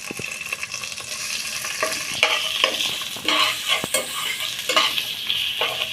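Chana dal masala frying with ginger garlic paste, a steady hiss of sizzling oil broken by repeated scraping stirs of a spoon against the pan, close and fairly loud with no talk.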